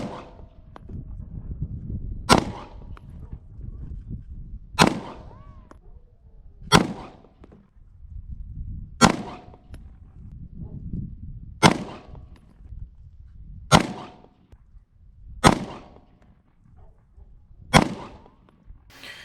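Glock 19 pistol fitted with a Ghost Edge 3.5 connector firing nine sharp shots at a steady pace of roughly two to three seconds apart, loud and close, with low rumble and faint movement between shots.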